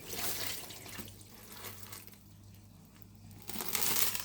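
Dirty aquarium water poured out of a container during a fish tank overhaul: a steady, close splashing pour that eases off mid-way and surges again near the end.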